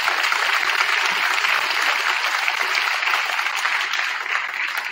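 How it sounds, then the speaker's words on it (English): Sustained applause from a banquet crowd honoring athletes, dense and steady throughout, loud and close, with no talking over it. "let's give these athletes one more round of applause"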